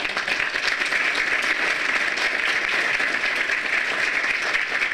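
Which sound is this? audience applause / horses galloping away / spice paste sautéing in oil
audience applause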